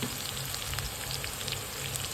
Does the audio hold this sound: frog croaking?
no